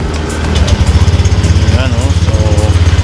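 A Honda Click 125i scooter engine that had trouble starting catches and settles into a steady, loud, pulsing idle close by, with someone talking briefly over it.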